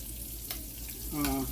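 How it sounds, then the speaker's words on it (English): A steady sizzle of whiting fish fillets frying in a pan, with a soft clink partway through and a faint voice near the end. "And that frying, there it is, right there in the frying pan."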